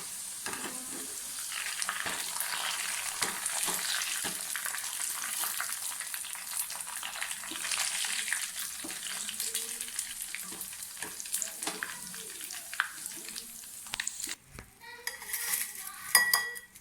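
Ivy gourd (kovakka) frying crisp in hot oil, a continuous bright crackling sizzle with occasional metal spoon clinks and scrapes against the pan, close and steady, no talk.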